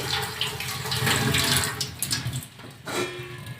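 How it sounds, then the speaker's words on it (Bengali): Cold tap water running steadily over fresh spinach leaves in a kitchen sink, a continuous close splashing rinse with slight shifts as the leaves are moved under the stream. "এবার এই পালং শাকটাকে একটু আমি ঠান্ডা জলে ধুয়ে"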